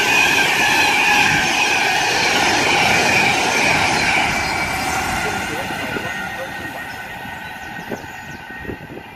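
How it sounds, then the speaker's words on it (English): Pendolino express train passing through Rugeley Trent Valley station on the West Coast Main Line, a loud close rushing roar with wheel squeal and rail clatter that gradually fades as the train moves away. "passing through now is going to be another Pendolino from London to Manchester"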